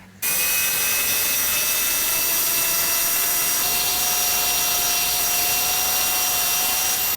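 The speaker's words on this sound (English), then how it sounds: "we're ready to drill the first hole, which we can then reference all the other holes to" A drill bores the first hole in the base of a Stuart S50 steam engine, starting abruptly and holding a loud, steady whine with sustained high tones for several seconds.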